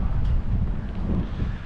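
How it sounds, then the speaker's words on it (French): Steady wind roars across a microphone on a moving sailboat, a broad, close, continuous rush with no voices. "Là, on voit qu'il y a du vent."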